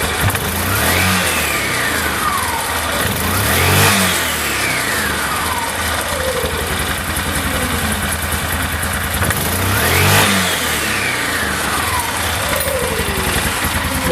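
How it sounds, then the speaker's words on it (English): A Yamaha ATV engine with an Ultramatic belt drive revs repeatedly and close, rising in sharp bursts around every few seconds and falling back toward a rough idle between them, with no talking. "Now if I rev it a lot more, you'll start to see that belt start to climb"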